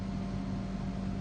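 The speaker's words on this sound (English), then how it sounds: "sorry if you can hear the fan in the background" A household electric fan runs in the background as a steady droning whir with a low hum, constant and unchanging, no voices present.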